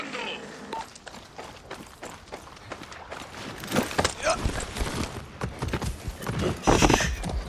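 Hoofbeats clip-clop steadily from a horse in Far Cry 6, with a whinny rising near the end, all over game music and a voice talking throughout.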